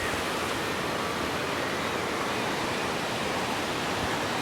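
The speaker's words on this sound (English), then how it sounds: "On one side, we've got this lovely waterfall." A waterfall at a fish hatchery in Valdez, Alaska pours in a steady, broadband rushing roar that stays even and close throughout, with no voices over it.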